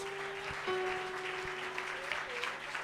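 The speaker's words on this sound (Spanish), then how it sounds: "Démosles un fuerte aplauso a nuestro Dios." A church congregation applauds, a steady, moderately loud wash of clapping with a sustained musical tone and voices mixed in underneath.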